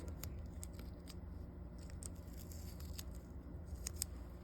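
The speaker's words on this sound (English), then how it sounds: "Rip it off." Sticky tape ripped off during a graphite-paper transfer, heard as a few faint, short tearing crackles over a steady low background hum, with no voices.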